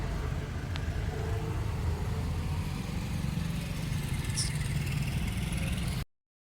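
Skoda car engine freshly back from servicing idles steadily in a low, even rumble for about six seconds before cutting off abruptly.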